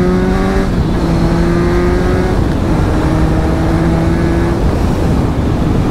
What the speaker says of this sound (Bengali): একটু বাইকটা চালিয়ে নিয়েছি, আবার আস্তে আস্তে যাবো।